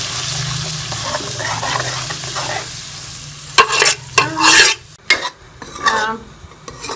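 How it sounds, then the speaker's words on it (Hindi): An onion and green chili paste fries in ghee with a soft continuous sizzle, then louder, sharper bursts of stirring and spatula scrapes against the pan in the second half, close up and without speech. "प्याज को हरी मिर्चों को थोड़ा सा भून लेंगे।"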